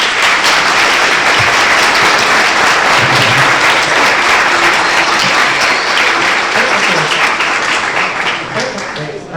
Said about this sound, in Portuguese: Uma salva de palmas na mão.